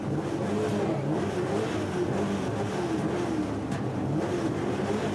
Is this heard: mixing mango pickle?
no